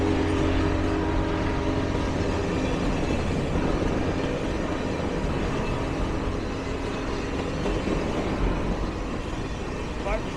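Rail cars roll past close by with a steady, dense rumble and low mechanical hum that hold unbroken for the whole stretch, as passenger cars from the 1940s and 50s trail the Big Boy steam locomotive through Philadelphia.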